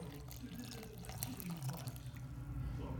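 Warm water is poured from close by into a bowl of yeast for vetkoek fried bread dough, making a steady, watery trickle with light splashing for about three seconds. No one talks.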